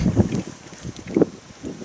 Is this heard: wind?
yes